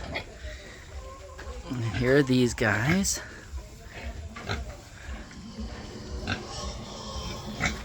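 Farm pigs grunt and squeal nearby in a loud, wavering burst that rises and falls, then fades into softer snuffling while someone talks over the animals.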